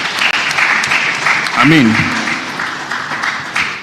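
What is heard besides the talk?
audience applause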